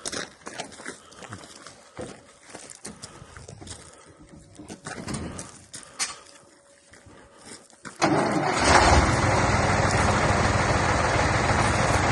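After quiet rustling and faint handling noise, a vehicle engine fires up abruptly and settles into a loud, steady, close running drone that holds to the end.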